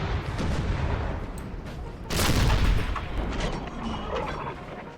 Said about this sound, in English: Still dueling with the artillery over here somewhere.